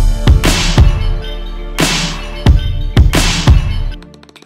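Punchy drum beat with bright, splashy cymbal hits landing on several beats over a deep bass tone, ending in a quick fade.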